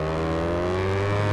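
BMW R1200 motorcycle engine in the video game GTA San Andreas, a loud, continuous revving whine held close and rising slightly in pitch over a short burst.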